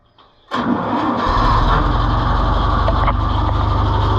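A John Deere 2020 tractor engine with a hydraulic fault cranks and catches, then settles into a steady, close, chugging idle with a regular low thump.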